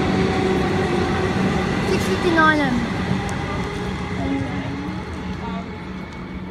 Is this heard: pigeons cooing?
no